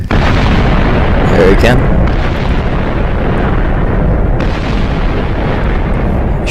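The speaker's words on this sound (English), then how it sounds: "You should be able to hear all the explosions." Missile explosions rumble and boom in the Minecraft Voltz mod video game, a loud continuous roar of blasts with sharp bursts layered on top, while a voice talks briefly over it.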